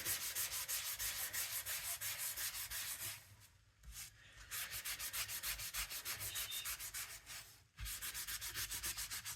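Sizzix oil pastels rubbed back and forth on paper, giving a steady, close scratchy rasp in rapid rhythmic strokes with two brief pauses.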